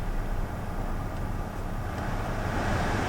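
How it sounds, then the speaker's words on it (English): Air vents in a 2019 Volkswagen Jetta S blow hard on a high fan setting, a dense, steady roaring hiss filling the cabin, with a couple of faint clicks as the fan control is changed. "I want y'all to hear it blowing out while I'm clicking on this."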